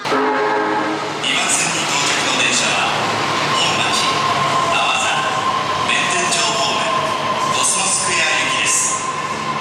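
A train stands at a platform with a loud, continuous rumble, faint squeals and a steady tone running throughout.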